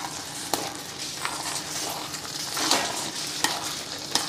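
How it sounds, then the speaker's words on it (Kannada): Broken wheat bisibelebath being stirred in a pan, a continuous soft scraping and gentle sizzle with a few sharp spoon knocks against the pan, close by and without talk. "ಈಗ ಚೆನ್ನಾಗಿ ಮಿಕ್ಸ್ ಕೊಡಿ ಇದನ್ನು"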